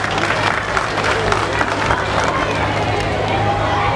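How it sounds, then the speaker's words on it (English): A crowd applauds at a 2023 Rotary charity run against cancer on an outdoor morning, with dense, steady clapping and crowd noise filling the whole stretch at a moderate, even level. "Let us clap for ourselves."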